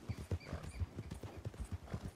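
Horse hooves clip-clopping at a steady walking rhythm in Red Dead Redemption II, regular close thuds, fairly quiet, with no talking.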